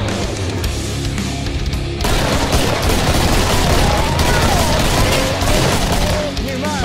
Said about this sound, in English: So we both start shooting the clown.